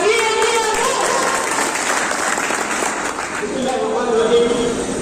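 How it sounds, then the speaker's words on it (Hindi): In a hall at an aqiqah gathering with an Islamic quiz, an audience applauds in a loud, continuous roar of clapping, with a voice speaking over it at the start and again near the end. "एक बार के लिए जोरदार तालियां।"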